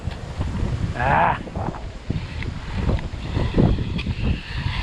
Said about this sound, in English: Super windy today.